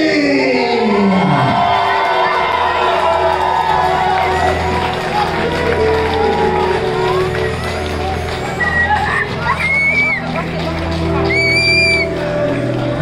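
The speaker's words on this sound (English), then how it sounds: "a big round of applause for Safi!" Guests at a wedding party cheer and whoop as the groom is introduced, a loud mix of shouts, children's cries and crowd babble over booming music, with high whistles or whoops near the end.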